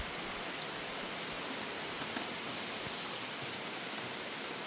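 Steady rain from Typhoon Kristine hisses continuously, a dense, even wash of falling drops with no voices or breaks.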